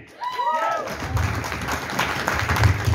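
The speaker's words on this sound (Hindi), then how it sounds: "21 डायमंड के लिए इतनी ताली तो नहीं बनती" Audience applause in a hotel event hall, a steady wash of clapping that rises quickly and holds, with a voice speaking over it at the start.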